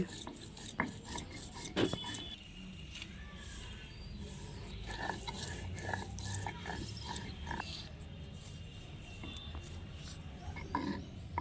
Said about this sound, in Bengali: শিলনোড়াতে বাটা হচ্ছে কাঁচা লঙ্কা ধনে পাতা